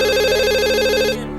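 Electronic telephone ringtone trilling loudly and close in a home, a rapid warbling tone that cuts off just before the end.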